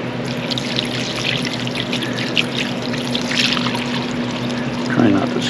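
Paint thinner trickles and splashes as it is poured into the rusty gas tank of a 1982 Honda CB750F SuperSport, a steady watery gurgle lasting several seconds with a faint hum beneath it.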